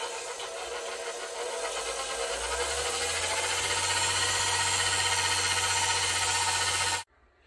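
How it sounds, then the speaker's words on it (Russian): Electric mixer whipping cream for a cake, a steady buzzing motor whir that rises slightly in pitch and loudness as it runs, close, then cuts off abruptly near the end. "уже я взбила сливки"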